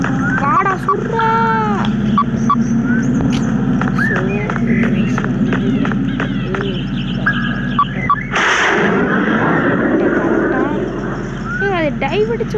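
Video game airplane attack with explosions and gunfire: a sudden loud blast bursts out midway amid busy game effects and music, with excited voices talking throughout.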